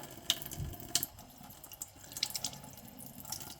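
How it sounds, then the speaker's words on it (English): A tap runs water into a sink in a steady, fairly quiet stream, with a few brighter splashes and drips breaking through the continuous flow. "Get a little bit of water going."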